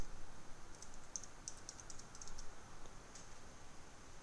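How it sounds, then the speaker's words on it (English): Typing a search word on a computer keyboard, a quick burst of light clicking keystrokes in the first half, faint and close, then quiet room tone. "Let's type the word aircraft into the search box near the top right-hand side of the screen."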